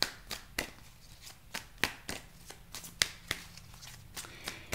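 A deck of tarot cards is shuffled by hand, giving crisp irregular riffles and snaps recorded close and fairly quiet, with no talk over the card sounds.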